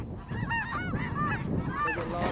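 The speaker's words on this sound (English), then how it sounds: "There's a lot of birds." A large flock of geese calls overhead during a waterfowl hunt with HEVI-Shot loads, many overlapping honks rising and falling continuously and close, without talk.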